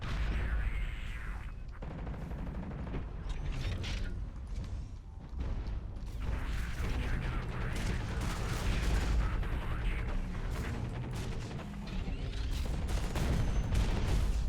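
Gunfire in the mech shooter Hawken during a team battle, with a sniper rifle shot among dense, continuous bursts of weapon fire and mechanical clanks that run loud throughout.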